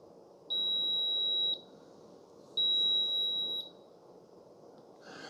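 A NutriBullet Brew Choice pod and carafe coffee maker gives two long, steady electronic beeps separated by a short pause, clear and close in an otherwise quiet room.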